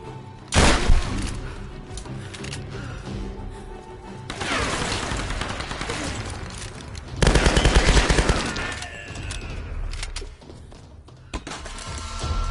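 Loud exchanges of gunfire in Tomb Raider (2013), with a sharp opening burst followed by two longer barrages of rapid shots and thuds, with quieter gaps and a faint shattering between them.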